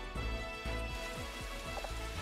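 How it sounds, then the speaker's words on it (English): Rain ambience from the Pokemon Conquest video game, a soft continuous patter layered under tonal game music with a repeating sweeping motif, fairly quiet throughout. "It's raining."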